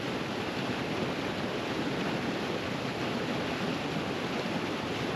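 Disappointment Falls runs full of water, a dense, steady roar of falling and rushing water that fills the scene without pause, close and even, with no voices.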